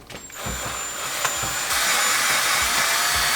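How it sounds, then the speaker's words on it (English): Headlight lenses on a Porsche 996 Turbo being hand-sanded with 800 grit sandpaper, giving a steady close scratchy hiss that grows louder after the first second and keeps going without a break. "Actually, 800 seems pretty good. It's working pretty well."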